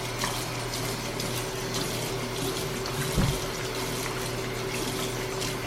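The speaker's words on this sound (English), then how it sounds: "Rinse everything down." Running water rinsing down a surface after cleaning, a steady close flow like a tap with one brief splash or knock midway, no voices.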